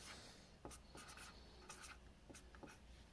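A pen scratching quick, faint strokes onto a label for a pottery glaze ash sample, close but quiet over a steady background hiss.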